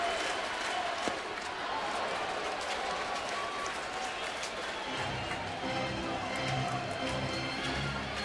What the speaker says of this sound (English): Very active crowd here this afternoon with chants of Yachty.